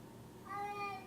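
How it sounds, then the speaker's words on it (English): A single plaintive meow from a pet cat, short and rising then falling, fairly faint and close in a quiet room. "Kitty, what are you crying for?"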